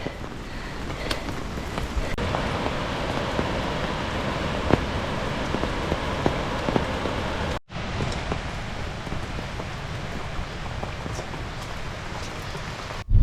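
Steady rain patters continuously in Costa Rica, heard while driving, with a broadband hiss and faint wind noise and a brief dropout partway through.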